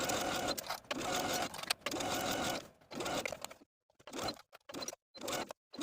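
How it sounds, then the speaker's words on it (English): A sewing machine stitches a band to an armhole seam, running in whirring bursts with short pauses between them, the stops growing longer and more frequent toward the end. "Sew your band to this armhole with a 5/8 inch seam allowance all the way around."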